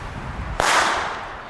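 A single sharp, loud firecracker crack bursts out of a rumbling background, its bright hiss trailing off over the next second.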